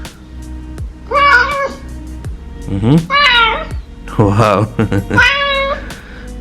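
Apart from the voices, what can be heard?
cat meows played by Amazon Echo Dot skill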